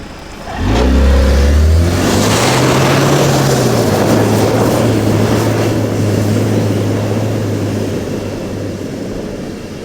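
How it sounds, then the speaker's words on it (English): An off-road vehicle's engine is floored while stuck in deep forest sand, roaring up loud and close and then holding a sustained high-revving drone that slowly eases off. "I'm trying to get as much room so I can just floor it."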